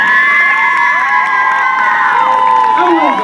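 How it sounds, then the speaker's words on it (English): Senior night ceremony crowd cheers and whoops for a senior being escorted onto the field, loud continuous high shouting and cheering voices filling the whole moment. "Ladies and gentlemen, round of applause for Ms."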